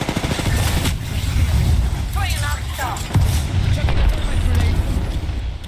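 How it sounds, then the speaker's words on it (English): Bursts of gunfire in an Apex Legends ranked match on Kings Canyon, continuous and dense, mixed with explosions and game effects, while players talk over the top. "Taking fire."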